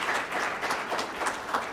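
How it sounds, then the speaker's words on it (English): Applause from an audience at a public works and safety board meeting, a steady, fairly faint patter of clapping hands that carries on alone without talk. "Can we give her a round of applause because she nailed it?"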